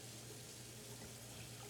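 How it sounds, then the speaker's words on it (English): Cold water running steadily from a kitchen tap to rinse raw chicken, an even close hiss and splash with no talking. "So now I'm gonna rinse the chicken."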